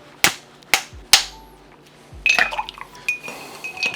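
Three sharp, loud cracks strike a big ice cube for a Negroni, evenly spaced, followed by clinking and the rattle of ice shards settling in a glass.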